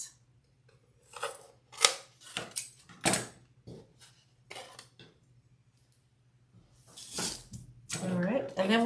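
Scissors snip excess ribbon off a no-sew summer lemonade wreath, a series of close, crisp cuts in uneven bursts separated by quiet gaps, ending with a longer rustle of handled material.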